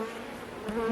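Honeybees buzz around an open hive during a beekeeping inspection, a close, dense hum with a few individual insects whining past, no voices.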